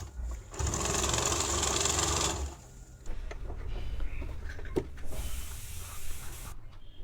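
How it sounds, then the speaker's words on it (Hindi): A sewing machine top-stitches the shoulder seam of a young girl's silk top, running in a steady mechanical whir for a couple of seconds, pausing, then running again with quieter clicks and handling noise. "यहाँ पे मैं एक टॉप स्टिच लगा दूँगी"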